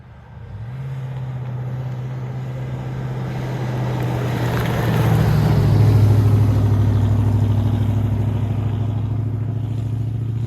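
A car engine swells as it passes close by, a steady low drone that grows louder around the midpoint and then holds, with no talking.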